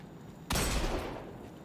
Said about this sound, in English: I was trying to shoot it,